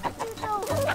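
Older hen clucking in a farmyard, a short run of soft, close clucks, one after another, over a faint low background hum.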